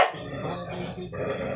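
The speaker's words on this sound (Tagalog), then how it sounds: "Ang ingay ng aso." A dog barks nearby in a short, loud burst, an opening yap followed by rougher, growly barking that trails off and rises again, with no talk over it.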